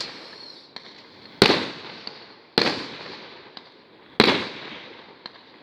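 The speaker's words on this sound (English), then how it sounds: "If you walk over the field over there, that's where the fireworks are coming from." Fireworks burst across an open field, three big booming explosions a second or so apart with crackling tails, plus smaller pops between them, heard from a distance with no talk.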